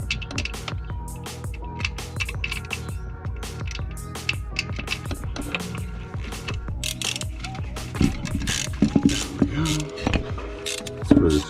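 A BMW E24 sits under transmission work while a breaker bar turns on a starter bolt. Metallic ratcheting clicks, clanks and creaks come in bursts close by, growing busier toward the end.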